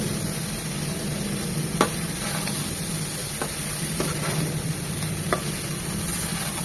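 Chopped green beans and potatoes fry in a pan with onion, garlic and green chili, giving a steady close sizzle with a few light scraping stirs and clicks.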